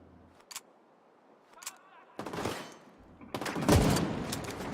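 Incendiary-round gunfire in the video game The Division 2 comes as a few isolated shots followed by two heavy rapid bursts, loud and close, with a sharp crackle in the final burst.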